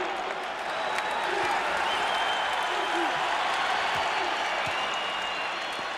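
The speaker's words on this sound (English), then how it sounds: "Listen to this crowd here in Syracuse." A basketball arena crowd in Syracuse applauds and cheers steadily during a college game between North Carolina and Georgia, a dense, continuous roar of clapping and voices filling the hall without letup.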